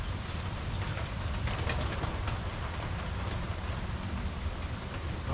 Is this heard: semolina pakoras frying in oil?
no